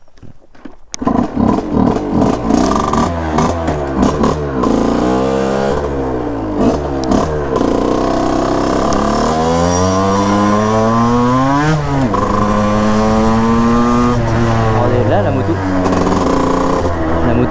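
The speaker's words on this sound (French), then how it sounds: "vous allez voir que la moto va bien mieux marcher" A 50cc moped engine runs with the choke on. After it catches, it buzzes steadily and revs up and down repeatedly in loud, rising and falling sweeps that carry on for a long stretch, close to the listener.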